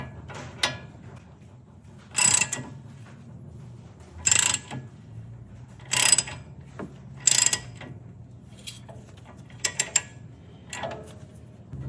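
A ratchet tightens a lug nut on a wheel stud installer tool to pull the stud through the hub, producing about six separate bursts of close mechanical clicking over a quiet background.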